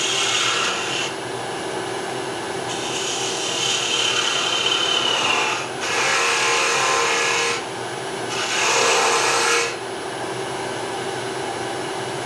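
Lathe tool cutting a spinning wooden blank while turning a coffee scoop, a steady whirring hiss broken into several louder rasping passes of the tool against the wood, up close.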